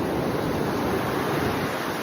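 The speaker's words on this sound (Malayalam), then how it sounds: "ഇതാണ് നമ്മുടെ കടൽ" Sea waves at Chavakkad Thiruvathra beach make a continuous, even surf roar with wind buffeting the microphone, steady and fairly loud with no voices.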